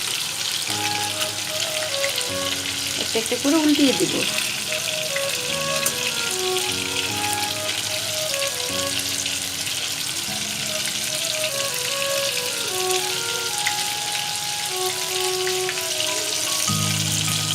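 Beef kofta balls shallow-frying lightly in a pan, a steady hiss of sizzling oil running throughout with a brief clatter as the balls are turned; a voice speaks briefly over it.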